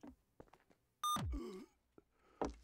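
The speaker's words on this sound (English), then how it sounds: "You can hear beeping." Electronic beeping tied to a medic in the video game Garry's Mod, heard as a loud tonal burst in the middle of the clip, with a few short softer sounds before it and a strong hit near the end.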